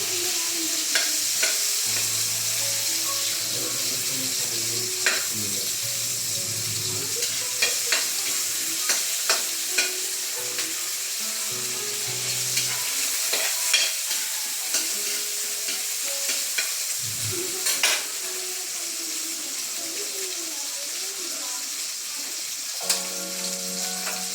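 Tomatoes sauté in a hot pan with a steady, close sizzle, broken by frequent scraping and clicking stirs of a utensil against the pan throughout; no one speaks.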